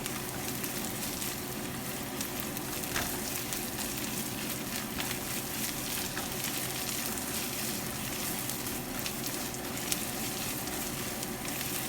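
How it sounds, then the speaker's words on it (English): Onions fry with a teaspoon of ginger garlic paste in a pan for a cauliflower masala dosa filling, giving a steady, even sizzle throughout, close and constant with no talk. "I am going to add 1 teaspoon of ginger garlic paste. Fry for few minutes until the raw smell goes."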